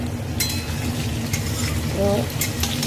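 Oil sizzles steadily in a pan while a utensil stirs and scrapes, with a few metallic clinks.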